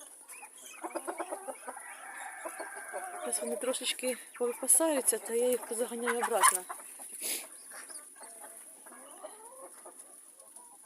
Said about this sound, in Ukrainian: А кури снігу бояться.